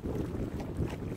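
Steady, low rumbling wind buffets the microphone on a boat out on the Swan River, a continuous roar with slight surges and no voices.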